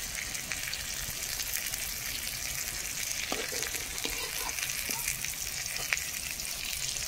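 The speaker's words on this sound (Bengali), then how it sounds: "এই যে সয়াবিন যেটা অমলেট ভাজা হয়ে গেছে" Soybean omelette frying in a pan for a Bengali vegetarian dish, a constant soft sizzle with a few small clinks and taps as it cooks.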